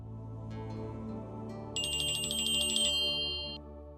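A bright electronic phone ringtone chimes over a soft, low background hum, ringing loudly for a couple of seconds before cutting off.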